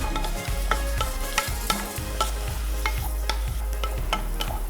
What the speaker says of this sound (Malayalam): സവാള നല്ലപോലെ വഴറ്റി ഒരു ബ്രൗൺ നിറമാവുന്ന വരെ ഇത് വഴറ്റിക്കൊണ്ടിരിക്കുന്നു.